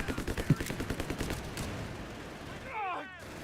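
An MG42 machine gun in Company of Heroes 3 rattles off a rapid burst of evenly spaced shots, fading into the game's background as a voice talks over it.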